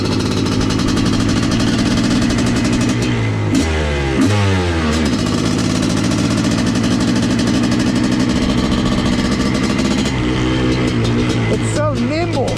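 A Honda CR500 two-stroke motorcycle runs loud and close, idling and repeatedly blipping its throttle with sharp revs that rise and fall under the rider's occasional talk.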